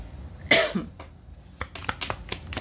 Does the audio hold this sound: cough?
yes